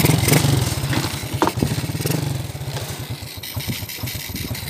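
Suzuki Supremo 150 motorcycle engine running after a kick start, a loud, steady single-cylinder putter with rapid regular firing pulses and a brief rev partway through, heard close with no talk.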